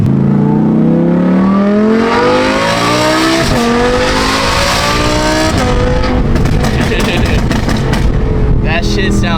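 Loud Audi R8 engine revving hard and crackling, pitch rising and falling in repeated surges, close and dominant, with pops from the exhaust toward the end.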